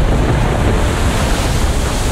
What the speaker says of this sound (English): The seas were rough that day off the coast of Chile.